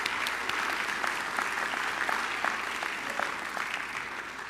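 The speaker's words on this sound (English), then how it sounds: "Can we show them a round of applause?" Audience at a Crown Forum gathering applauds the contest winners, a steady, moderately distant round of clapping that continues evenly throughout without speech.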